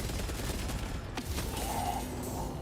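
Heavy bolter in the video game Space Marine 2 firing a sustained, chunky burst of rapid shots, steady and loud throughout, with one sharper crack near the middle.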